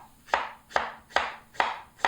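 A knife slicing cucumber on a cutting board, five sharp evenly spaced cuts, each a crisp close knock on the board followed by a brief wet swish, with no talking.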